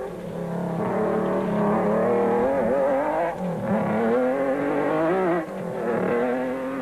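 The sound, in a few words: race cars overtaking during the Tarka 400 race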